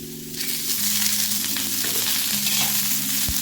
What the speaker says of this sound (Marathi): थोडंसं तेल टाकून देते म्हणजे कांदा लवकर परतून होईल